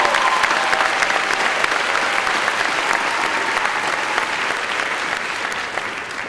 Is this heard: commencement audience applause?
yes